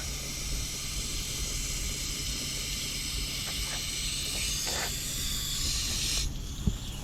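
A steady spraying hiss of water aimed at a body seam on a Nissan Rogue near the spare tire well, continuous and fairly close, ending with a faint knock.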